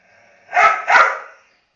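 A female dog gives two quick barks in close succession, near and fairly loud, in an otherwise quiet indoor space.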